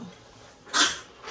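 A single short, sharp sneeze bursts out after a quiet moment, fairly close.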